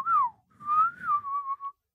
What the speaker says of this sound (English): it was like one of them hard whistles, like he was calling out the fucking audible